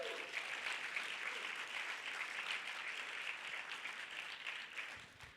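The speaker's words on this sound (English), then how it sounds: "Give yourself a round of applause for being in this room here today and yesterday." A large room full of people applauds in a steady, dense wash of clapping that holds for several seconds, fairly distant, then tapers slightly at the end, with no voices over it.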